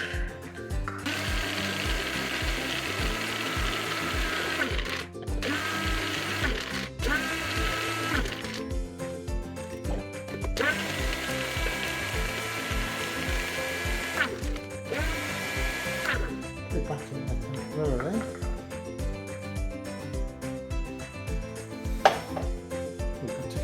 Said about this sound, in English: I'm going to try to grind it down myself with my NutriBullet